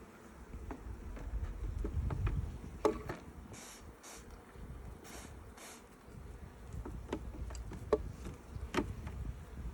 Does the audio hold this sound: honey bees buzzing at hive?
yes